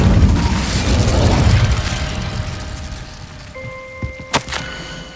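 An Incendio fire spell cast in the Hogwarts Legacy video game bursts out late as a sharp whooshing flare with a pop, following a dense rumbling wash of ambience, with no talking.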